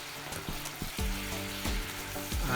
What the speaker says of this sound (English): So just mix the sauce round, it will bubble because that's all the liquid